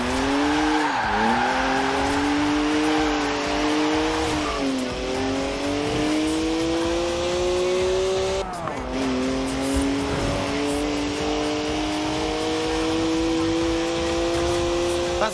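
A BMW 1M with a 3-litre twin-turbo straight six drifts in Forza Horizon 4, engine droning and rising in pitch through several slides while tires squeal, dipping and climbing again between corners, loud and close throughout.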